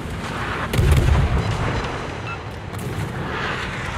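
Ship cannons firing a broadside in a naval video game, a deep heavy boom near the start rolling into a rumbling tail, with further muffled blasts beneath ongoing sea and battle noise.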